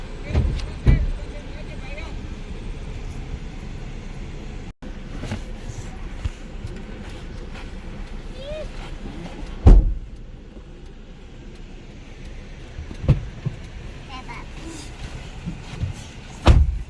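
A car is inspected at a Kartarpur corridor checkpoint as its trunk and bonnet are opened, with a steady idling rumble throughout and a few sharp thuds and clunks near the start, midway and at the end. People talk over it.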